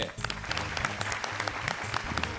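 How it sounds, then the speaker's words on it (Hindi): Loud, sustained applause from a crowd, dense clapping with some voices mixed in, continuing steadily throughout. "जोरदार तालियां हो जाएं हमारी तीखी मिर्ची शबाना जी के लिए।"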